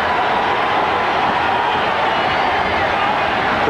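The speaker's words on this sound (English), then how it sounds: "The crowd comes alive on 3rd and" Football stadium crowd roaring loudly and steadily throughout as the 1983 Eagles face the Redskins on third down, a dense wash of cheering filling the air.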